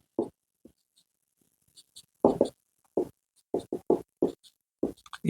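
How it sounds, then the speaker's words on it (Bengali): A hand writes out a formula, with short scratchy pen or marker strokes in irregular bursts separated by pauses, close and fairly crisp against a quiet background. "তাহলে আমি অ্যালভিওলার গ্যাস ইকুয়েশন তার ফর্মুলাটা আরেকবার লিখছি।"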